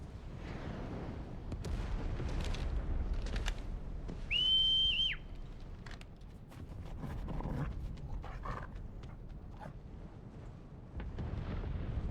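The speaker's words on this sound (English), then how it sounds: "Did you just whistle very, very loudly?" A loud, sustained whistle in the video game Final Fantasy XVI cuts through a dense, rumbling battle scene with blasts and crashes all around it.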